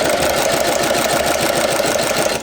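A sewing machine stitching leather for a dog grooming apron runs at a fast, even mechanical rhythm, loud and close, its rapid needle strokes clattering steadily before it slows to a stop.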